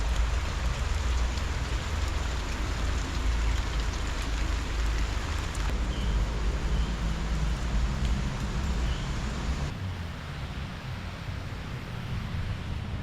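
Steady rain falls in Baguio near the botanical gardens, a dense, even hiss with drops pattering on nearby surfaces, continuous and fairly close throughout.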